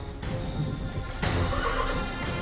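An untamed horse neighs in anger, giving two loud, drawn-out whinnies close by, with heavy stamping and shuffling of hooves under and between the calls.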